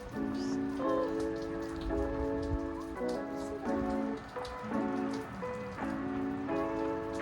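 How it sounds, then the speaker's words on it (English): Steady rain hisses close by while a soft, sustained musical tone plays underneath. Nobody speaks. "Oh, it's a lot of rain."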